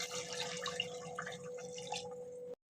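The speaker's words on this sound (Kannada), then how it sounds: "ಈಗ ಅದಕ್ಕೆ ತಕ್ಕಾಗೆ ಬಿರಿಯಾನಿಗೆ ಎಷ್ಟು ಬೇಕೋ ಅಷ್ಟು ನೀರು ಸೇರಿಸ್ಕೊತಾ ಇದ್ದೀನಿ." Water trickles and drips into cooked chicken masala for Hoskote-style biryani, a quiet, continuous splashing that stops abruptly near the end, with no talking.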